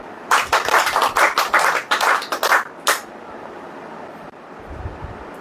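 A church audience at a sermon clapping hands, a loud rhythmic run of claps lasting about three seconds, ending in a single final clap, then quiet room tone.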